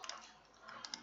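Quiet keystrokes on a computer keyboard, a few soft separate taps clustered near the start and end of a short moment, with no talk.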